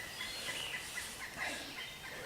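Wild turkeys gobbling in the West Virginia woods during a spring hunt, faint and distant, with a few gobbles rising over steady outdoor background noise.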